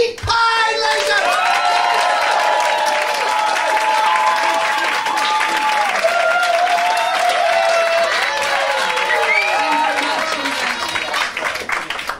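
A stand-up comedy audience claps steadily and warmly, a sustained wash of applause with some cheering, while music plays along underneath.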